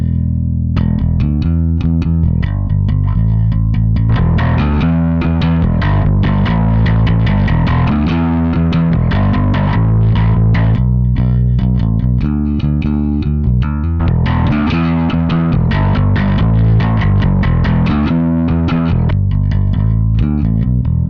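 Bass guitar played through a Rat distortion pedal with the distortion set low, giving a thick, gritty low-end tone; continuous loud riffing with dense sustained notes and no voices.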